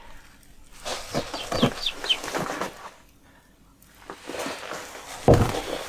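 Chickens cluck in short, irregular bursts close by, with pauses between the calls and a louder squawk near the end.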